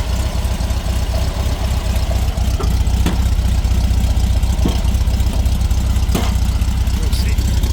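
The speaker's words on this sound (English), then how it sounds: "I think it's a 1600cc engine. Runs really well. Fires up cold, nice and easy." Idling air-cooled 1600cc engine of a 1986 Volkswagen Beetle with a single carburetor, a steady low putter running close and loud throughout, with a few faint clicks and background noise over it.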